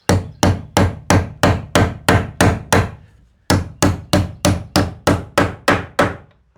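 Estwing hammer driving nails into wall framing for an off-grid solar shed: two loud runs of about eight sharp, evenly spaced blows each, separated by a short pause.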